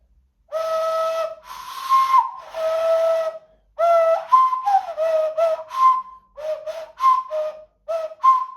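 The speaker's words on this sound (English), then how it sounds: "Next up is the dual tone Tel Aviv whistle. It's made from a single hollowed gourd," Dual tone whistle made from a single hollowed gourd, blown in a series of clear, breathy two-pitch toots, first three longer blasts then a quicker run of short bursts, close and alone.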